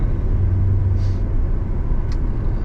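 A Maserati Ghibli V6 engine and exhaust rumble steadily from inside the heavy car while driving, a low continuous drone with faint road noise.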